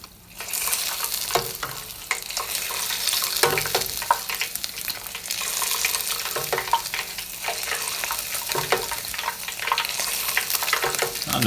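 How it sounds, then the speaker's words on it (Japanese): Scale-on tilefish (amadai) deep-frying in hot oil for matsukasa-age, a loud, steady crackling sizzle with brief bursts of stirring throughout and no voices. "最後油に落として唐揚げにする"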